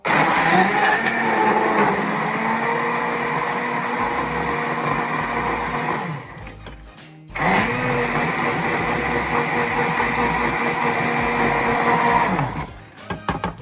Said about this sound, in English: we're going to bring our hand blender in and we're just going to blend that